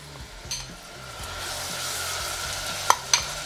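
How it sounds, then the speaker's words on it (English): Peanut butter and grape jelly melt together in a pan on the stove as a sauce for smoked chicken wings, with a steady soft sizzle, gentle stirring scrapes and two sharp utensil taps against the pan near the end. "We're pretty much just melting down this peanut butter and getting that jelly melted"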